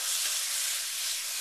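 Chopped onion hits a hot frying pan for chicken fajitas, giving a loud, continuous sizzling hiss as it is stirred in.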